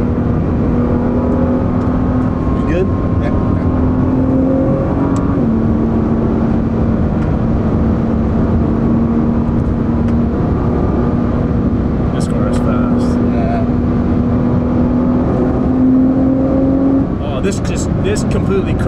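Tuned Nissan-style performance car from a Japanese tuning shop, engine and exhaust pulling hard under acceleration with a steady droning note and gear shifts, heard from inside the cabin beneath ongoing conversation.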